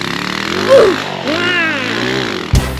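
A Honda Wave 100 motorcycle fitted with a modified exhaust pipe is revved up close, its loud, rasping engine note sweeping up and down in a couple of quick throttle blips before a sharp burst at the end.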